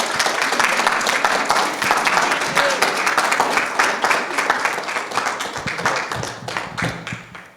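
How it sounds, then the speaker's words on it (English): Audience clapping in a room during a Christian program, a dense round of applause that holds steady and then thins out toward the end. "I think we want a round of applause for"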